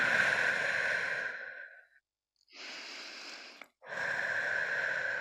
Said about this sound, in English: making 3 audible exhales